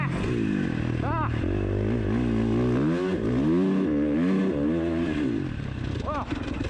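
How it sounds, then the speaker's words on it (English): A 2019 Husqvarna FC 450 motocross bike engine revs loud and close throughout, rising and falling as the rider works the throttle, with a voice briefly heard over it. "Man, this bike is fast."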